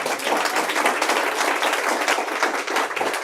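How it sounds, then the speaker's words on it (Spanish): A church congregation claps together in a dense, steady burst of applause, loud and close throughout the short stretch. "Un aplauso al Señor por eso."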